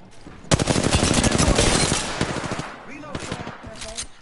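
Automatic gunfire in Apex Legends starts as a loud, dense burst of rapid shots, then thins into scattered, quicker cracks and short bursts.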